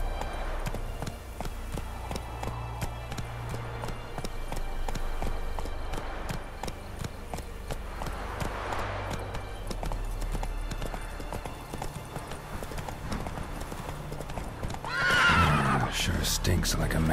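A horse in The Witcher 3 gallops with steady clip-clop hoofbeats throughout, then gives a loud neigh near the end, with character voices talking over the ride.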